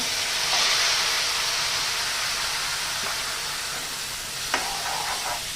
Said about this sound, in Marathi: हे बघा ही 3 टोमॅटोची प्युरी मी याच्यामध्ये घालते.